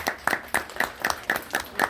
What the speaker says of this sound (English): Please give them another round of applause as they speak.